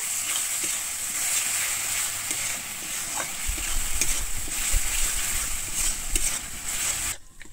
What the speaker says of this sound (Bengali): আমি টমেটোটা দিয়ে কিন্তু আবার এখানে খুব ভালোভাবে মিশিয়ে নেব